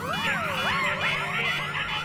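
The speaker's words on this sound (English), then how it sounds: "The alarm's already going off for some reason." An alarm blares in Plants vs Zombies Garden Warfare 2, a loud, continuous wailing electronic tone with sweeping pitch that rises and falls steadily for about two seconds, close and unbroken.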